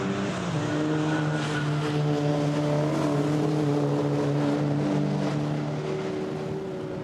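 Volkswagen Scirocco race cars roar steadily through the Vale section at Silverstone, a loud sustained engine drone with shifting harmonic tones as the pack passes, heard alone without any voices.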